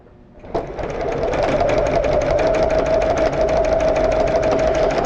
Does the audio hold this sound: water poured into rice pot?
no